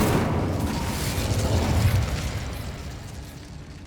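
An Incendio fire spell cast in the video game Hogwarts Legacy, a loud, dense rushing roar of flame that holds for a few seconds and then tapers slightly, ending with a short pop.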